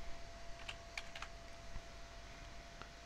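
Computer keyboard typed on during a Minecraft session, a handful of quick, light keystrokes scattered over a few seconds, close and fairly quiet, with no talking.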